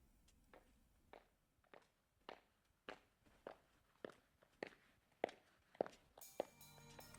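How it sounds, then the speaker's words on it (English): Footsteps in the visual novel Steins;Gate approach through an event hall: about a dozen soft, evenly spaced steps, fairly quiet, followed by a faint tonal sound at the end. No voices. "which means I should be hearing footsteps soon."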